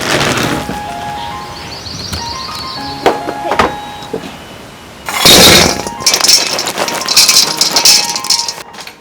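Glasses clink together in a toast over a summer Chinese barbecue meal, a couple of bright chiming clinks with rattling glassware, close and fairly loud, with no one talking.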